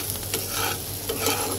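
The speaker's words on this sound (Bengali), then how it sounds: "এবার পেঁয়াজটাকে সুন্দর করে আমি একটু ভেজে নেব" Sliced onions fry in a hot pan with a steady, loud sizzle while a spoon scrapes and stirs them in short strokes, close to the microphone and with no talking.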